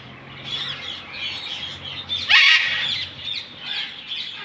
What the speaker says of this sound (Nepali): क्या भयङ्करको चरा छ यार